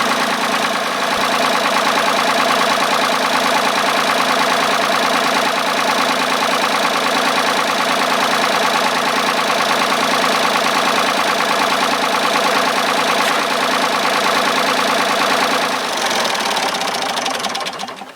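A Ford 3000 tractor engine idles steadily after a new radiator install, a loud, close, even diesel chug with a rapid knocking pulse that holds for the whole stretch and then cuts off at the end.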